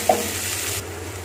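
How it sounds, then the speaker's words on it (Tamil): Onions and tomatoes sauté in a pan for egg kurma, a close steady sizzle with a spoon tap at the start and continuous stirring scrapes. "தக்காளியும் நல்லா வதங்கட்டும்."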